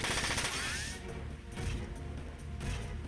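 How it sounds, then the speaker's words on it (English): A mech firing dual SMGs in Front Mission 4 lets out short, rough bursts of automatic gunfire over a busy, layered game soundscape. "It's like the mech equivalent of running around with dual SMGs."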